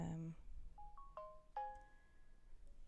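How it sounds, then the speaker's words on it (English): A mobile phone ringtone plays a short rising run of clear electronic notes, some held and fading, just after a brief voice at the start, in a quiet room. "Sorry, that's my phone."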